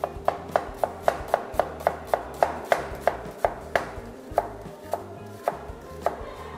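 An onion chopped with a knife on a board, a steady run of about twenty crisp, evenly spaced blade strikes that come close and clear, slow slightly toward the end and carry no talking.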